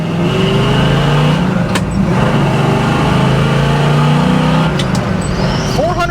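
A 1968 Pontiac Firebird's engine pulls and builds revs from inside the car, a steady loud drone with rising tones and road noise.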